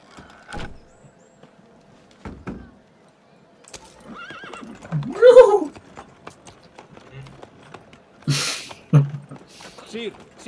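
A horse in Assassin's Creed Unity gives a loud whinny mid-clip, with clip-clop hooves, scattered mechanical clunks and brief voices around it.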